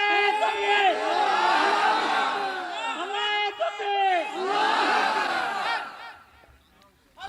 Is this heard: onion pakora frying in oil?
no